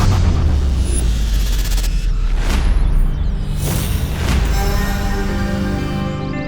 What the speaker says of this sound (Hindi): यही है वो परमाणु बम।